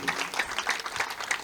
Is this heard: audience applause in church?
yes